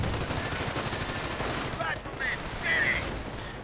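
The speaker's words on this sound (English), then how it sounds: "Grenadiers are advancing, but are simply getting stopped by the 30 caliber." .30 caliber machine gun fire rattles through a Company of Heroes battle in a steady stream of mid-distance gunfire, with other combat noise layered underneath.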